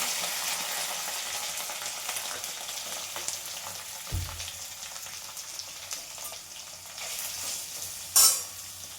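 Green chillies, curry leaves and onion fry in a pan with a steady, moderately loud sizzle, lifting briefly near the end with a sharper crackle and a soft low knock partway through.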